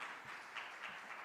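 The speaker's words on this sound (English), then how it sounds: "Can I have a huge round of applause for the entire property," Applause from a summit audience comes as a steady, faint wash of many hands clapping, distant and continuous, with no voices on top.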